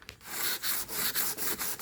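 A Scotch-Brite pad sands a hubcap from a 1985 Mercedes 300TD wagon, making steady back-and-forth scrubbing strokes, about seven rasping passes at a quick even rhythm, close and fairly loud with no talk.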